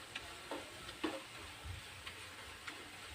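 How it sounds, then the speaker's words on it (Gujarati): Fresh green turmeric roasts in ghee and is stirred, giving a quiet, soft sizzle. Several short scraping strokes of the spoon against the pan come at a loose rhythm, with no talk. "હળદરમાંથી એકદમ સરસ રીતે ઘી છૂટું પડવા લાગ્યું છે, અને એકદમ સરસ શેકાઈ ગઈ છે ઘીમાં"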